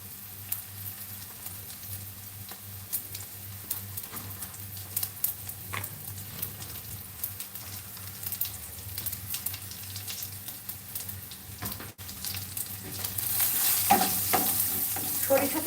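Mustard seeds frying in hot oil give a soft, steady sizzle with light scattered crackles and pops that build louder toward the end.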